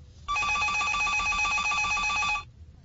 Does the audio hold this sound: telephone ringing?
yes